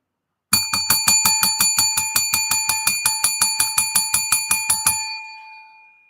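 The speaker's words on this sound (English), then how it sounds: "I got to dust off this super chat bell here." A small desk bell used as a super chat bell during a live horror-movie stream, struck rapidly about twenty times in a steady ringing series, bright and close, with the last ring left to decay into silence.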